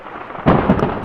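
A sharp, loud thunder crack bursts out during a Florida thunderstorm, then rumbles on over steady rain-like noise.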